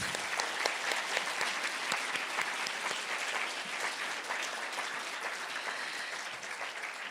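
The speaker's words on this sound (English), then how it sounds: "can we please give them one more round of applause?" An audience at a conversation event gives a sustained round of applause, many hands clapping in a dense, even wash at moderate volume with no one speaking.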